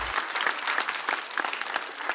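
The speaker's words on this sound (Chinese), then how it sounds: "再次掌声送给 Echo。" Audience applause at a Chinese stand-up comedy show, steady dense clapping throughout, fairly close and even in level, with no voices over it.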